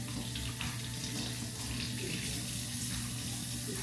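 A kitchen tap runs in a steady, continuous stream while water is added for cooking rice and peas. It is close and unbroken, with no talk over it.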